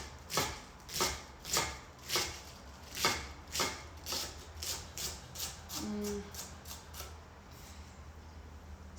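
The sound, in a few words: knife shredding spring vegetables into thin chiffonade slices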